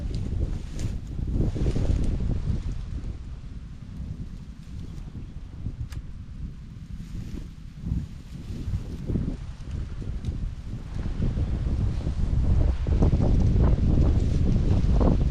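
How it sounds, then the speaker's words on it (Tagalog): Strong wind buffets the microphone in a continuous low roar that surges and eases, loud and close throughout. "sarap ng hangin"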